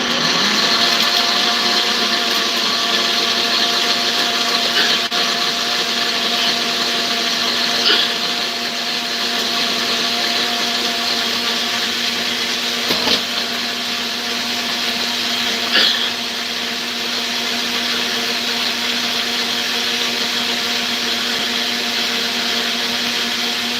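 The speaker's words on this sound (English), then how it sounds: "It's coming from my blender." An electric blender runs steadily at a constant loud whir for the whole stretch while making Oha soup, with faint knocks and clatter from the jar but no speech.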